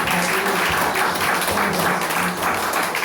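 A church congregation applauding during a worship service, a dense and steady wash of many hands clapping at once, sustained and even throughout with faint voices mixed in.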